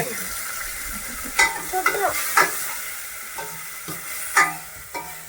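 Utensils scrape and clatter against a pot as food is stirred over a steady sizzling frying hiss, with a few sharper knocks scattered throughout.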